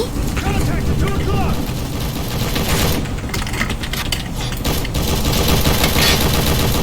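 Rapid bursts of gunfire from a Roblox video game rattle on almost continuously, loud and close, with voices talking over the shooting.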